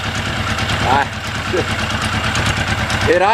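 A carbureted engine idles with an even, low mechanical rumble throughout, while brief whistling sounds rise faintly over it.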